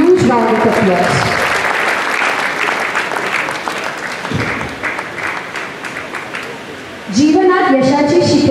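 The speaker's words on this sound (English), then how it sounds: "Please give him a huge round of applause." Audience applause at a school centenary valedictory celebration: loud, sustained clapping from a large crowd for several seconds, with a voice over a loudspeaker heard at the start and again at the end.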